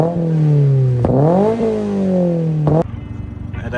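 A 2024 Toyota GR86 fitted with an ISR single-exit exhaust revs loudly up close, its tone climbing and holding over two pulls before dropping to a rough, burbling idle.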